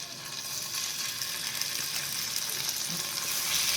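Pieces of malai boti fry in an oiled pan with a steady, close hiss of sizzling oil that grows slightly louder toward the end, with no talk.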